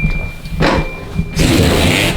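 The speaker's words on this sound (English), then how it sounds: "That's the sound of the windshield washer." A Volvo 940 wagon's windshield washer pump runs in bursts, an unpleasant loud buzzing whir with a steady high whine, cutting out briefly and starting again.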